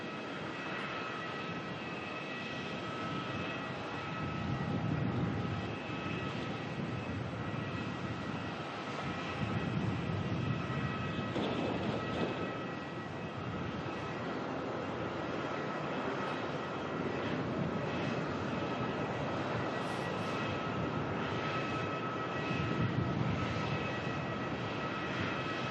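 An airliner lands at Melbourne airport, heard as a steady, fairly loud engine roar with broadband rumble that swells slightly at times and holds throughout, with no voices over it.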